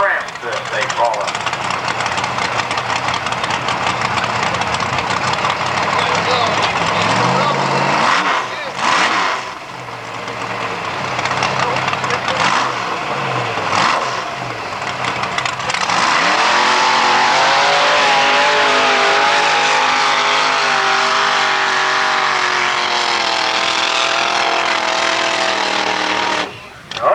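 Trucks roar through a muddy course at a 1990 small-town mud run in Washington, Illinois, engines revving hard and loud with surging acceleration, while a crowd and announcer chatter over the din.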